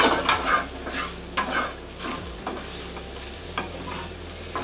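Eggplant and other vegetables for a Thai curry are stir-fried in a wok, with a loud close sizzle and a few sharp scraping strokes of the stirring utensil.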